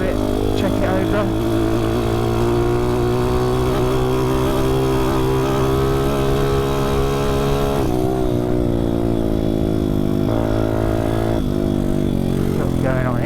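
A 155cc pit bike engine drones close by while riding along a track in top gear, holding a steady buzzing pitch with small surges and a dip before climbing again.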